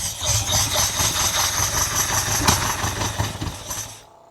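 A 1979 Ferrari 308 engine idles on choke, a steady rough mechanical rumble with regular pulsing running close and loud throughout before cutting off at the end.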